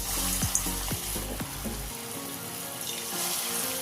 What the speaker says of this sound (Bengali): এবারে ওর মধ্যে দিয়ে দিচ্ছি যে বাঁধাকপিটা মাখিয়ে রেখেছিলাম ওইগুলো ভেজে নেব